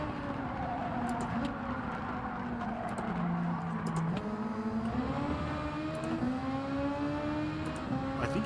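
Race car engine in Gran Turismo 7, a steady droning whine that climbs and shifts pitch through gear changes, held close and continuous with no talk.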